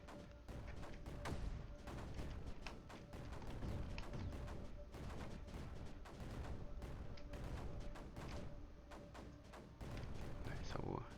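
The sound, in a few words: mortar firing in video game Creeper World 4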